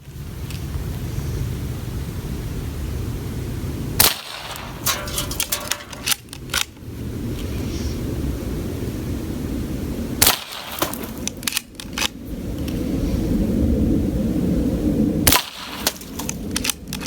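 PCP air rifle fired outdoors while plinking, with three sharp shots spaced several seconds apart, each followed by brief metallic clatter, over steady wind and background noise.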